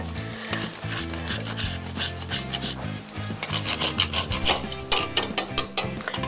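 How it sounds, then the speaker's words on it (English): Chocolate is grated into shavings over an affogato, making quick rhythmic rasping strokes up close, repeated steadily over soft background music. "I am gonna put some chocolate shavings into my affogato."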